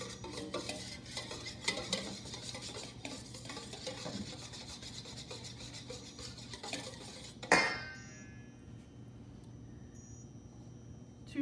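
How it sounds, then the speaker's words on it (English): Eggs whisked in a pan make a continuous, fairly quiet scraping and clinking of metal on metal for several seconds, ending in a sharp clank and then near silence, with no voices. "them right into the pan. Give them a good whisk."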